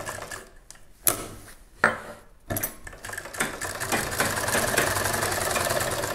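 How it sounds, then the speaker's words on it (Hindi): A sewing machine stitches underwear fabric while it is being trimmed. Sharp mechanical clacks come first, then the machine runs into a steady, continuous whirring stitch close by. "इसकी चिराई करते हुए सिलाई लगा लेनी है"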